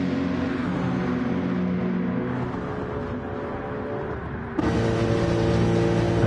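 Race cars lap Le Mans in Gran Turismo 7, a steady loud engine drone with shifting pitch that jumps sharply louder near the end as another car closes in.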